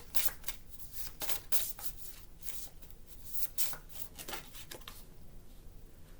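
Tarot cards being shuffled by hand, a close, crisp run of rapid riffling flutters and slaps for several seconds, tapering off near the end, with no talk.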